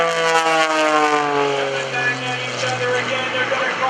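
Greg Connell's aerobatic airplane rolling at the 2015 Greenwood Lake Airshow, a loud steady propeller drone with a strong tonal whine and gently wavering pitch as it maneuvers.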